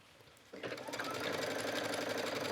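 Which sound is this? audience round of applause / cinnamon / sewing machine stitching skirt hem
sewing machine stitching skirt hem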